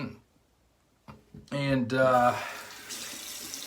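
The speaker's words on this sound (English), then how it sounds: "cold water rinse" Tap water runs for a cold rinse, a steady splashing hiss that starts after brief speech and continues at moderate loudness to the end.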